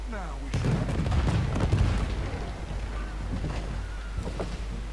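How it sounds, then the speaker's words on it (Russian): A loud, deep explosion booms in the video game Red Dead Redemption 2, followed by a long rumbling roar and debris clatter that slowly fades, with voices faintly underneath. "Итак, взрывай!"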